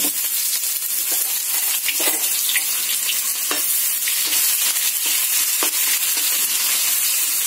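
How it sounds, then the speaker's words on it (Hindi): Onions tossed into a pan of roasted cumin, frying with a dense, steady sizzle and occasional stirring clatters, loud and close with no talking. "मेरी जीरा थोड़ी सी भुनी हुई लग रही है तो मैं इसमें अभी प्याज डाल देती हूँ।"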